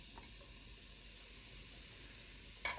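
Chopped onion fries in hot olive oil in a pan on medium-high heat, a faint, steady sizzling hiss with a brief louder crackle near the end and no talking.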